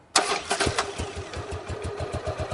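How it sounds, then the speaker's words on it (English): A motorcycle engine cranks on its electric starter button and catches with a sudden loud start, then settles into a steady, throbbing idle close by, with no talking. "now he'll just push the yellow button with his thumb to start the motorcycle"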